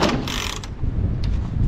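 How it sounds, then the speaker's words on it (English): A McCulloch Mac 10-10 chainsaw's starter cord is yanked for a compression test, giving a short ratcheting, whirring pull of the recoil mechanism, close and loud, with no voices. "do the old compression test"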